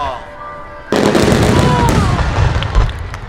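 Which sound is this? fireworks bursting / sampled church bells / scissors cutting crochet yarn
fireworks bursting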